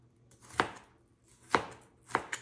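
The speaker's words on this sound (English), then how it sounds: "This is an onion I just cut out, and yes, I am using this knife" A single onion being cut with a sharp kitchen knife on a board, three crisp separate chops spaced apart, close and clear with no talk.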